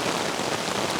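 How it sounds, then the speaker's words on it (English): Very heavy rain pours down steadily at a forest campsite, a dense continuous hiss of drops hitting the ground and surfaces with no pauses. "clearly it started raining very hard"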